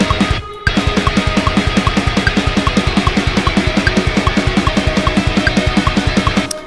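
Programmed metal drums in Ableton play a fast blast beat of rapid, evenly spaced kick and snare hits over a cymbal wash, loud and mechanical, after a brief pause at the start.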